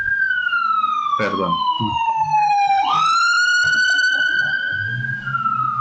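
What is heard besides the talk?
ambulance siren passing by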